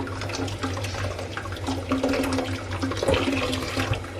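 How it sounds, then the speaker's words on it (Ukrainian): Boiled water pours steadily over a parrot perch in a sink during disinfection, a continuous close splashing wash with a low hum beneath. "Зараз цю воду перелью назад, поставлю, щоб вона знов закипіла."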